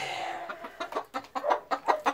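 Chicks at a poultry yard cluck in a quick series of short, evenly spaced calls, close and clear with no talking over them.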